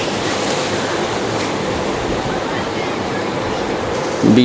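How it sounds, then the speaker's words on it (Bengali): Big ocean waves roar steadily onto a beach at Digha, a loud continuous wash of surf with a heavier surge right at the end. "এখানে ঢেউগুলো কত সুন্দর কত বড় বড় ঢেউ আছে"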